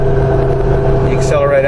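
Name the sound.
Jeep Wrangler Unlimited with LS3 V8 engine accelerating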